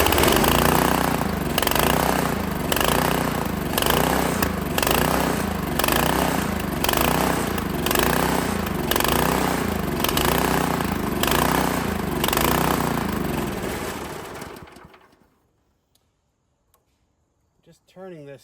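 A Honda GX160 engine on a Workman 2 multimixer runs rough, loud and near, its uneven pulsing chug wavering in a lumpy rhythm for about fourteen seconds before cutting out abruptly into near silence.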